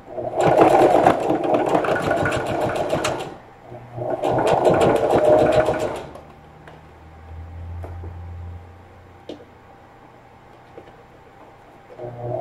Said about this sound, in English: just sew right along the edge to attach these pieces together